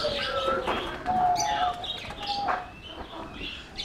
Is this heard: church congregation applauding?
no